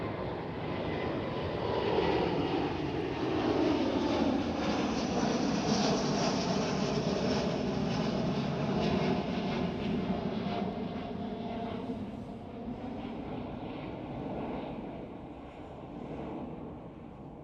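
Delta Airlines Airbus A330neo climbing out after takeoff from Amsterdam Schiphol, a smooth rising and falling engine roar with a Doppler sweep of tones, loudest early then slowly fading into the distance, with no voices.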